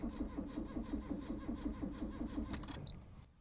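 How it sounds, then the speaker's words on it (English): Car engine cranking over on the starter to build oil pressure, a fast even rhythmic chugging for about two and a half seconds, then stopping with a brief clatter. "engine's turning."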